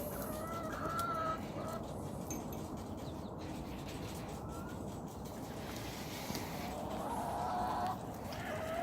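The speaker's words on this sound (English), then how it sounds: "That's a bunch of chickens." Several chickens cluck and chatter in a steady, busy stream over an outdoor background hum, with occasional higher calls standing out.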